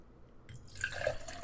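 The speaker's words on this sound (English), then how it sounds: "I'm pouring some water into my cup." Water poured into a cup at a desk, a faint trickle rising into a splashing fill with a climbing pitch as the cup fills, heard alone without speech.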